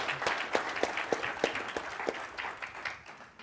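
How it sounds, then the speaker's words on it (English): Scattered clapping from a conference audience after a tech demo, sparse distinct hand claps over a light wash, moderately quiet and brief. "give Tyler a round of applause"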